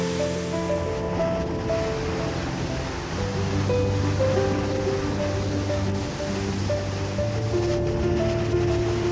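Seljalandsfoss waterfall in Iceland, heard from close by as a constant roar of falling water, spray and wind. Steady tonal hums run underneath, and no one speaks.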